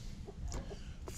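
A hen named Henny Penny gives a few quiet, short clucks close by, scattered soft calls over low background noise.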